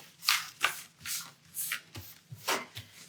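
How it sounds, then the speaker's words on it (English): Tarot cards are shuffled by hand in a series of quick riffling bursts, about eight soft swishes and taps in an irregular rhythm, close up with no speech. "Let me shuffle this a little bit better."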